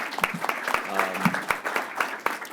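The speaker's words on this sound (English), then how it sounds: "Give them another round of applause." A small audience at a county labor summit claps for presenters, a fairly sparse and uneven patter of hand claps with a voice briefly heard beneath it.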